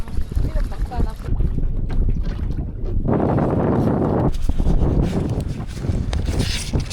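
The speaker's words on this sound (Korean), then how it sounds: "날이 갑자기 안 좋아지네요. 바람도 불고." Strong wind buffets the microphone aboard a small outboard fishing boat at sea off Chilcheondo during octopus fishing, a loud, rushing roar that swells and gusts throughout, with muffled voices underneath.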